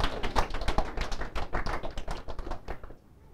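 Several people in a classroom clap for a few seconds in a dense, uneven patter of hand claps that fades out at the end, with no talking.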